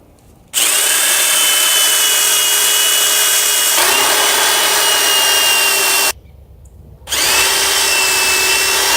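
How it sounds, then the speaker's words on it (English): A power drill with a bit boring holes through a tire, loud whining bursts close up: a long run, a brief dip, then another after a short silence, each spinning up sharply and holding steady. "I'm going to drill my holes all in this area here."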